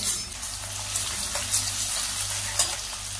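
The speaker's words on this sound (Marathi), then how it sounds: "तो लसूण टाकले, लसूण परतून घेणार" Garlic sautés in a pan for a spinach and fenugreek vegetable dish, giving a loud, continuous close-up sizzle with faint watery crackle and a few brief stirring accents.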